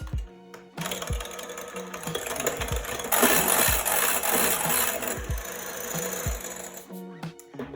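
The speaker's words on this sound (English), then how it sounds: "I'm using an electric whisk to do this" An electric whisk whirs steadily through egg whites as they whip toward stiff peaks, a continuous close mechanical buzz with scraping against the bowl that swells louder midway before easing off near the end.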